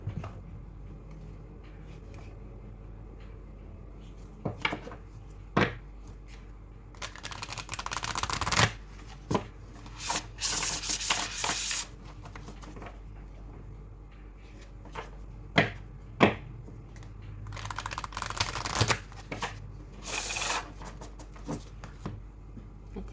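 A Moonology oracle card deck being shuffled by hand, with repeated bursts of riffling and sliding cards close up, separated by soft taps and pauses.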